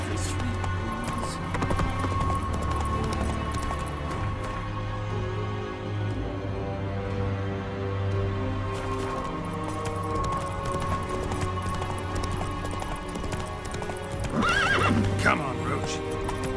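A horse's hooves clip-clop at a brisk pace in The Witcher 3: Wild Hunt, with neighing and a low rhythmic rumble throughout, and a louder burst of movement near the end; a voice talks over it.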